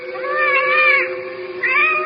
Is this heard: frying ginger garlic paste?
no